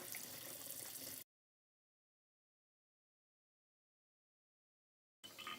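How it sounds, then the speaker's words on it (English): Cool tap water runs over a film developing tank in a steady rushing stream that cuts out to a long silence, then resumes. "you're going to let your tank run underneath the cool water."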